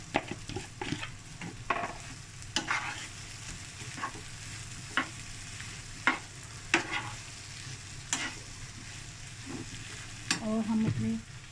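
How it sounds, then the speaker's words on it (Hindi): Potatoes stir-fried with garlic, turmeric, chili and salt give off a steady sizzle, broken by repeated sharp scrapes and clacks of a spoon against the pan. A brief louder burst of frying comes near the end. "हम अपने जो है ड्राई इंग्रेडिएंट्स इसमें डालेंगे, हल्दी मिर्च नमक वगैरह, और साथ ही हम इसमें अपने आलू ऐड कर देंगे।"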